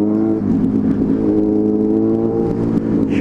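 Suzuki B-King motorcycle with an aftermarket exhaust pipe, its engine revving close and loud in a rising, throaty drone that holds steady for a few seconds.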